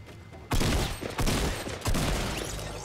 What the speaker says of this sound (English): Somebody just shot me from behind.